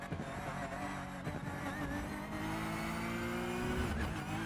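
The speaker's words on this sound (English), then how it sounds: "Driving the Porsche." A Porsche 911 GT3 R race car laps Charlotte Motor Speedway during qualifying, its engine a steady loud drone with rising and falling pitch as it shifts and revs, heard continuously up close.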